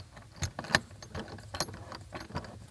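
The clamp knob on an Extang Solid Fold ALX tonneau cover is turned on a 2021 Ford F-150, giving a few close, quiet ratcheting clicks and faint mechanical scrapes in short, uneven bursts.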